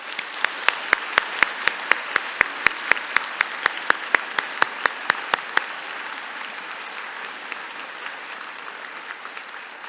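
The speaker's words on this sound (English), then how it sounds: "Let's give a round of applause to the class." Audience applause at the 2025 Branksome Hall graduation ceremony: crisp, loud individual claps ring out rhythmically at first, then thin into a softer, scattered patter that fades away.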